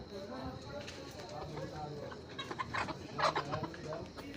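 Farm chickens clucking as they are herded to one side of a poultry shed for weighing, scattered soft clucks building into a louder flurry near the end, with faint background murmur.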